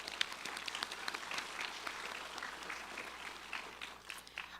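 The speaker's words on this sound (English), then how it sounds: "Let's give him a round of applause" An audience at a Cherokee youth ambassador competition applauds a judge, a fairly quiet, distant spread of many hands clapping steadily for several seconds.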